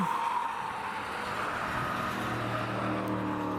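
A BMW E46 3 Series drives with a steady engine drone and road noise, holding a sustained tone that rises slightly as it goes.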